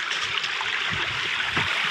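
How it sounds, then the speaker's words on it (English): A small stream flows along a hiking trail near Chattanooga waterfalls, a steady, close, broadband rush and trickle of water that continues without pause throughout. "that's where the stream's coming from"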